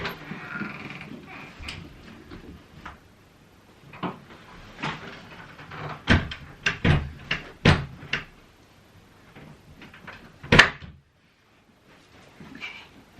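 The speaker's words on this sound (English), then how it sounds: "I'm just going to put it in the cupboard." A cupboard door in an old English cottage is opened and closed indoors, giving a string of sharp wooden knocks and clunks with a louder bang near the end, while a person talks faintly in between.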